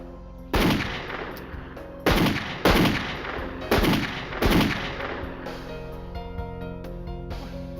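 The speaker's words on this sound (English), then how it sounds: "What you shooting for?" Gunfire, five loud close gunshots in an irregular burst, each with a booming echoing tail, followed by quieter ringing and rumble.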